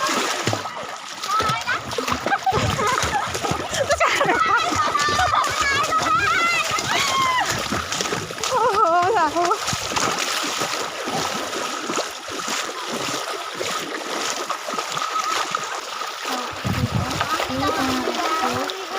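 Floodwater splashing and churning steadily throughout, loud and close, with excited voices and children talking over it.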